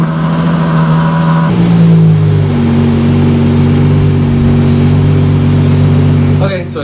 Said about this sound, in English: This is the Ferrari Purosangue. It's essentially their first SUV, technically their first production 4-door car